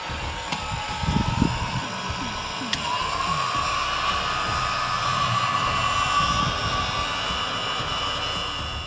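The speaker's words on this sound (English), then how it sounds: "we're just going to put the heat gun on it now" A heat gun blows a steady, loud roar into a BMW K1 motorcycle fuel tank, rising after a few knocks and handling clatter and holding a constant hiss and whine to the end.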